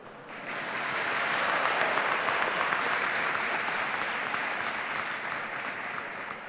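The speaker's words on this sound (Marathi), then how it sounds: "एवढ्या टाळ्या वाजवू नका" A large audience at a university convocation ceremony claps for several seconds. Dense, even applause swells within the first second and holds steady before easing slightly toward the end.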